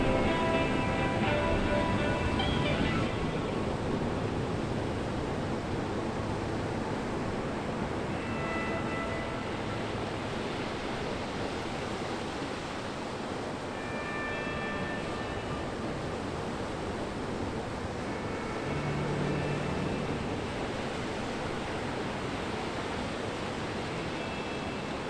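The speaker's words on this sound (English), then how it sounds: "you can enjoy the waves that are rolling in. They really are big waves today too." Big ocean waves roll in at a sea cave entrance, a steady broad wash of surf heard from inside the cave, continuous and fairly loud with gentle swells.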